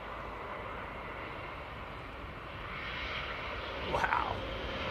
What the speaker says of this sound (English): Finnair bringing their 350